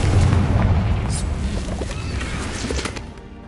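A fiery Confringo blast spell goes off in Hogwarts Legacy on PS5, a loud booming burst with a crackling tail that fades over a few seconds, heard alone without talk.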